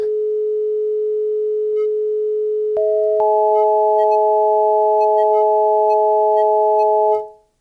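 Sustained sampled tone from an EMU ESI4000 sampler, its loop point ruined by processing: a steady pitched drone that jumps twice to stacked higher pitches, then cuts off cleanly, loud and alone.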